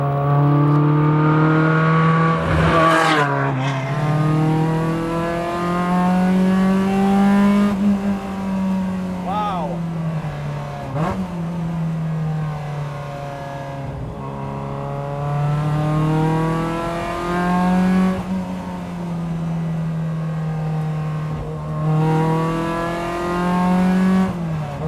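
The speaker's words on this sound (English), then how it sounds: "Upshifting just to downshift again." A Lotus Exige S1 sports car engine climbs and drops in pitch as gears are shifted up and back down, loud and close, with a few sharp blips between shifts over a steady road rumble.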